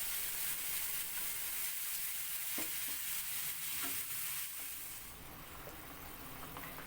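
A ground spice paste sizzles in hot oil in a pan, a steady frying hiss broken by a few scraping stirs that softens slightly toward the end.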